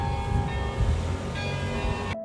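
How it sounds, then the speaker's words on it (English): Bells of the Western Church tower in Amsterdam ring out over city street noise, sustained tolling tones layered across a low urban rumble for a couple of seconds before cutting off. "Listen carefully and you can hear the bells as I did."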